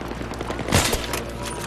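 Dense automatic gunfire and explosive bursts from the Battlefield 3 campaign's night-shift mission, with a loud cluster of shots near the middle over a constant layer of combat noise.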